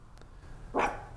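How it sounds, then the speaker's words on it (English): A single short dog bark near the end, moderately close, over a quiet background. "What are you barking at?"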